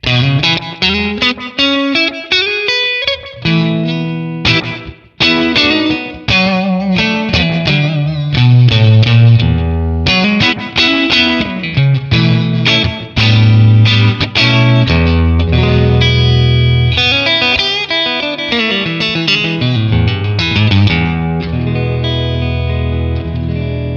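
An electric guitar plays through a TONEX FX pedal's spring reverb, with the mix set around halfway, so loud, continuous strummed chords and picked notes carry a springy wash that lingers between attacks.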